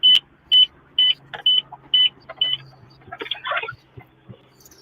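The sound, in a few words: radar detector beeping in a car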